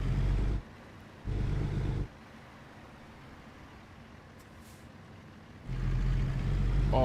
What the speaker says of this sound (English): And then I'm going to pull the truck up like this.